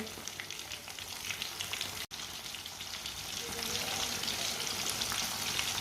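Fish frying in a pan, a steady close crackling sizzle that runs continuously, with one momentary dropout before it swells slightly louder.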